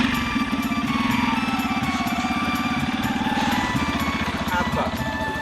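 A motorcycle engine runs steadily close by with a pulsing, buzzy drone that holds for the whole stretch, with voices underneath.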